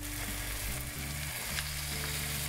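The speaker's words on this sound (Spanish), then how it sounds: "Ya tenemos todo bien frito. Ahora sí vamos a poner la carne." Meat sizzles loudly and steadily as it goes into a hot frying pan of already-fried ingredients for Peruvian stuffed caiguas, with no talking.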